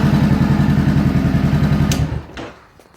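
A 500 motorcycle engine revs hard in rapid, pulsing bursts near the microphone, then drops away and falls quiet, leaving a couple of faint clicks.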